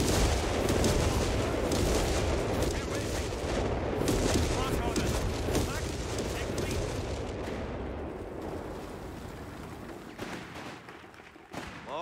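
Artillery strike in Company of Heroes 3 battle, dense thunderous shelling and rapid gunfire crashing loudly for most of the stretch, then thinning and fading before a last sharp hit, with shouted soldier voices mixed in.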